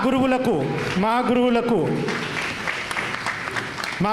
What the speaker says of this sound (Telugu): స్టాండింగ్ ఓరేషన్స్తో చప్పట్లు కొట్టవలసిందిగా కోరుచున్నాను